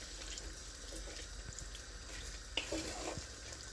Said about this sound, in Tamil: கொஞ்சமாக தண்ணி ஊற்றி, ஏன்னா கருவாடு வேகணும்